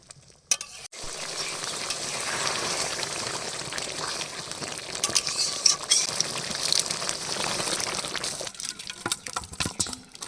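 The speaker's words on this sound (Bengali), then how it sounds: "আর 2-3 মিনিট ফুটিয়ে নামিয়ে নেব।" Prawn malai curry bubbles and sizzles in a pot, a steady, fairly close crackling simmer that runs almost the whole time and cuts off near the end.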